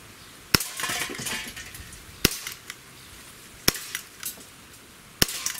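A Glock 17 .177 blowback air pistol fires four sharp, evenly spaced shots, each a crisp snap with a short metallic rattle, at close range.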